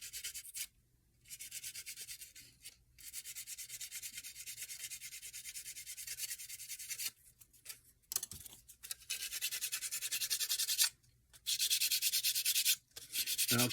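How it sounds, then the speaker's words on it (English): A nail file rubs back and forth over a small flat surface, making close, steady rasping strokes broken by several short pauses. "I'm just going to use a nail file."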